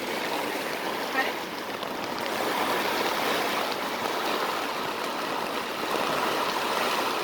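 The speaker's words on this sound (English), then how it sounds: "There's some heavy rain out there." Steady, dense roar of heavy rain drumming on a tent overhead, continuous and loud throughout with no pauses.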